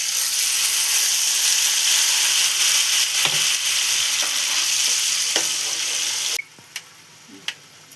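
Ground tomato paste sizzling and frying in a pan for homemade pizza sauce, with a steady loud hiss and occasional scraping clicks of stirring; the sizzle suddenly drops off near the end, leaving a few isolated taps.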